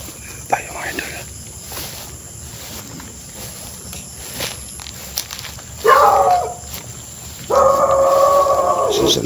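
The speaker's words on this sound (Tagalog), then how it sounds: "may mga aso dito sa kapitbahay" Dogs bark in short bursts from a neighbouring house at night, moderately close, over a steady background of crickets and insects.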